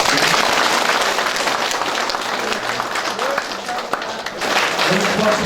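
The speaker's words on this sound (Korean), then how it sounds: "또 박수 한번 보내주세요." An audience at a Korean community town-hall event in Yangpyeong applauds, a dense, sustained wave of clapping from a large crowd that dips briefly mid-way and then swells again.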